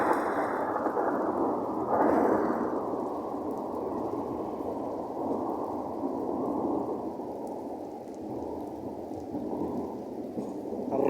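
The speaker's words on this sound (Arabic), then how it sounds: "موسيقى الرعد" A Moroccan rainstorm brings continuous heavy rain with low thunder rumbling underneath, a swell near the start, the roar steady and close throughout.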